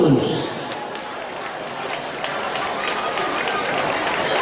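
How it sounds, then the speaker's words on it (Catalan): A crowd applauds for the blue giant figures at a children's street parade in Granollers, with sustained clapping and voices of the crowd throughout. "els aplaudiments els trobo una mica escadossers"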